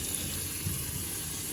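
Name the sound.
low-pressure water rinsing an air intake filter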